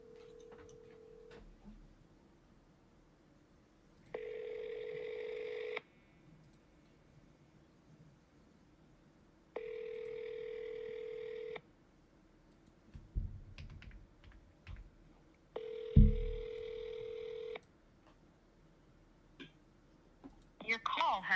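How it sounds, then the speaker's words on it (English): A telephone call being placed, with the ringback tone sounding in three steady, evenly spaced rings separated by pauses, each one clear and close. Some clicks and thumps fall between them, and a voice comes in near the end. "Let's call this guy."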